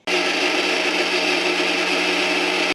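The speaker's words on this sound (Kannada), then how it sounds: "ಸೊ ಗ್ರೈಂಡರಿಗೆ ಹಾಕೋಣ. ವಾಟ್ರ್ ಹಾಕಿ ಇವಾಗ ಗರ್ರು ಅನ್ಸೋಣ" A mixer grinder whirs steadily as it grinds ingredients with water, a loud continuous motor drone that starts abruptly and cuts off just as suddenly after a few seconds.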